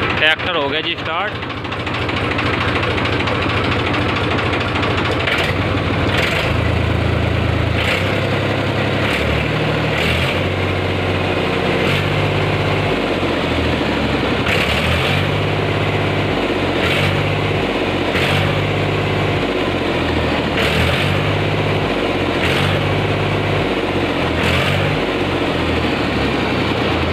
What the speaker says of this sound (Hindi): ट्रैक्टर हो गया जी स्टार्ट।